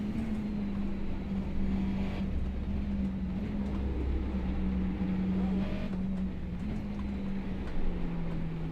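A race car in a racing video game laps the Green Hell circuit, its engine a steady, loud mid-pitched drone that holds fairly even, rising slightly and dipping toward the end, with no talking over it.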